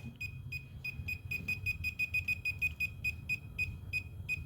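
A circuit tracer sweeps a panel of breakers and gives a rapid train of sharp, high electronic beeps, evenly spaced and fairly close, over a low background rumble.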